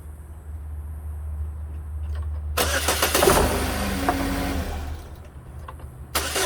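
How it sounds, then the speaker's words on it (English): A Chevy Equinox engine cranks and catches after a battery replacement, bursting from a quiet background into a loud, close running roar that settles into a steady idle. "if we wanted to try to see if the car will actually start"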